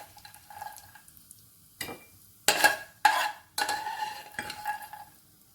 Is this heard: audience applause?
no